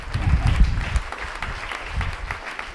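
A church congregation applauding the Lord during a worship service, steady loud clapping from a crowd with uneven swells of intensity throughout.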